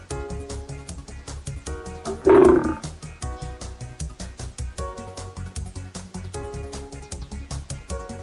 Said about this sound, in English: There are 2 lions.